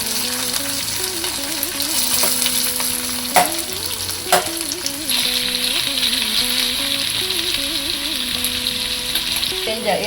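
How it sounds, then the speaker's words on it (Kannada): Onions and ginger frying on a medium flame, a continuous close sizzle with stirring scrapes and a couple of sharp clinks, under background music with a faint voice. "ಹಾಕಿ ಸ್ವಲ್ಪ ಫ್ಲೇಮು ಮೀಡಿಯಮಲ್ಲಿ ಇಟ್ಕೊಂಡು ಸ್ವಲ್ಪ ಕಲರ್ ಚೇಂಜ್ ಆಗೋವರೆಗೂ ಈರುಳ್ಳಿನ ಹಾಕ್ಕೋಬೇಕು."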